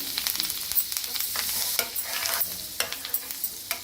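Pav bhaji vegetables roast in butter on a flat tawa, giving a steady close sizzle broken by frequent scraping and stirring clicks of a spatula against the pan.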